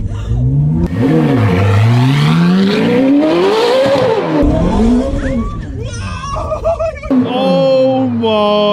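A rebuilt, formerly crash-damaged Ferrari F430 accelerating hard in first gear: a loud, close engine roar rising and falling in pitch as it revs, continuous and dominant, with voices reacting over it near the end.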